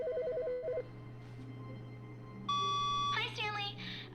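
A telephone ringing inside The Stanley Parable Ultra Deluxe video game: a brief repeating electronic ring pulses at the start, followed by a steady tone and busy game sounds over a low hum.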